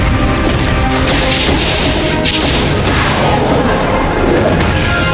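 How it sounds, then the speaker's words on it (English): An artillery strike is called down in the DC Universe Online video game, and crashing impacts and booms follow one after another. The dense, loud barrage carries on without a break, with whooshing debris over it. "Cyborg, concentrate fire on Luthor while I call down some artillery."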